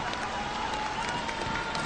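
A crowd in a rocket launch command hall cheers and applauds at payload separation during a Long March 5 launch, a dense, steady wash of voices and clapping.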